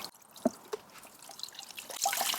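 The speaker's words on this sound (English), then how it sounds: "just a very light squeeze to get some of the water out" A few soft drips and trickles of water as a microfiber towel is lightly squeezed, sparse at first and then a brief fuller splash near the end, close and quiet.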